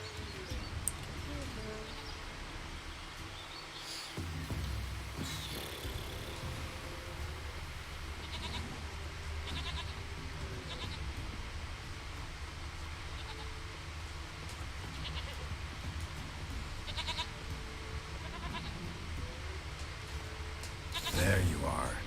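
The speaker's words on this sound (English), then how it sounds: "Here, goat." A goat in The Witcher 3: Wild Hunt bleats repeatedly over ambient game sound, with a voice talking at times between the calls.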